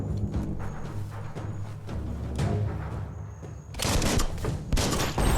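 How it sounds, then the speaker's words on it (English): Gunfire and an explosion in the Biomutant video game: a low rumbling stretch gives way to a loud burst of crackling shots and booms in the second half, with no voices. "Shoot it and watch it blow."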